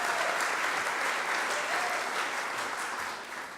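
Audience applause fills a college district board of trustees meeting, a dense, steady wash of many hands clapping close and loud, tapering slightly toward the end.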